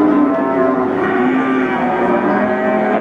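Limousin feeder cattle low and moo steadily in a busy Central Java cattle market, a dense loud bed of overlapping bovine calls with no clear speech.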